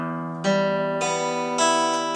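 Open guitar strings picked one after another in a repeating arpeggio from the low E up to the high E and back, each note sustaining and overlapping in a steady, clean pattern with no voices.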